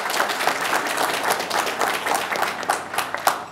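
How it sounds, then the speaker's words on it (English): A university audience at a fireside chat breaks into dense, steady clapping that holds for several seconds, with no talking over it. "Why are only the females clapping?"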